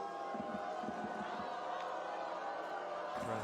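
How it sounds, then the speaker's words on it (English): A volleyball crowd at a beach pro tour gold medal match in Brasília jeers a Dutch player, a dense, continuous roar with rhythmic chanting beats, under commentary. "Crowd going after Matthew Immers."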